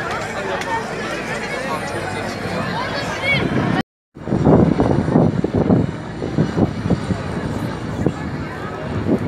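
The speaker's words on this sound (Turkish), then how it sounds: "Gökbey helikopteri." A military Gökbey helicopter's engine and rotor roar loudly overhead at Teknofest in Izmir while a crowd chatters, broken by a brief moment of silence before the noise returns.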